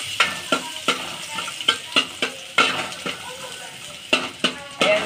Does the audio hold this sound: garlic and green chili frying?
yes